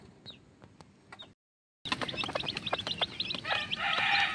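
Young chicks in a coop being fed, with soft high peeping and chirps at moderate level, a brief silent gap, then denser, louder chirping and clucking close by.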